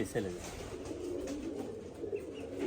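Pigeons on a pigeon farm give soft, low cooing under a steady hum of background noise, faint and somewhat distant, with people talking nearby.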